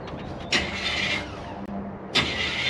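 A 1966 Buick's engine cranks and catches twice in quick succession, each start a sharp burst that settles into a rough idle, recorded up close with no talk.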